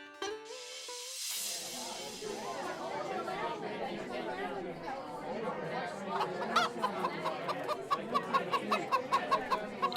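Cartoon roosters at a market cluck in a quickening run of short, sharp calls toward the end, over busy crowd chatter and speaking voices.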